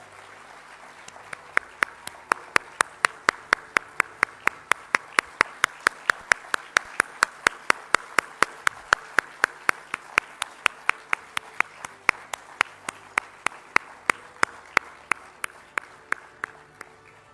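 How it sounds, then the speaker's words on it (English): Steady, evenly spaced claps ring out loud and close at a government announcement of the Men's Junior Hockey World Cup 2021 in Odisha, a rhythmic single-handed beat repeating for the whole stretch over a faint room hum. "Can we have a huge round of applause once again?"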